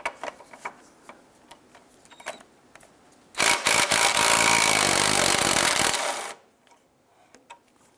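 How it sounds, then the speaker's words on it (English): Wrench and socket working a suspension bolt loose on a 1999-2004 Jeep Grand Cherokee, with scattered small metallic ticks and clicks, then a loud sustained burst of about three seconds, fading back to sparse clicks. "We're going to loosen and remove our bolt using a 15 millimeter wrench on the bolt side and an 18 millimeter"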